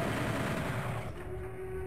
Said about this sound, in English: That is what the chain gun is for.